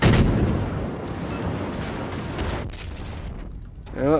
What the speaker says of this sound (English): we just got nuked by a battleship